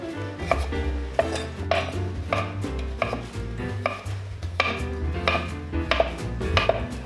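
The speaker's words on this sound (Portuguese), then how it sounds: "Aí vou pegar aqui uma cenourinha e vou picar ela assim em palitinhos." Knife chopping a carrot into sticks on a cutting board in a home kitchen, a steady series of close, crisp thuds with irregular rhythm, over a constant low musical bed.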